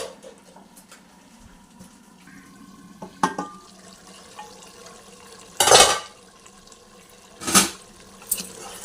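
A lid is set on a cooking pot of spicy country-chicken curry, giving two sharp metallic clatters over low kitchen noise and scattered small clinks.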